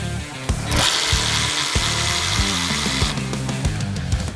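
A Ryobi power tool, likely an impact driver, runs bolts on a Duramax truck's rear differential cover in a garage, giving repeated short whirring bursts with sharp rattling hits, loud and close, one after another with brief pauses.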